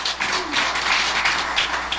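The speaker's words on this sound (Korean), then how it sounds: "박수 좀 한번 쳐주세요." A church congregation claps together in dense, steady applause that fills the whole stretch without pause, with no voices rising above it.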